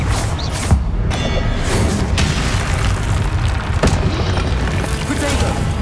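Confringo spell blasts in Hogwarts Legacy land as a run of heavy booms and bursts, several sharp explosive hits spread across a dense, loud combat din.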